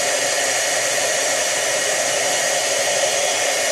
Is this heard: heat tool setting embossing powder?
yes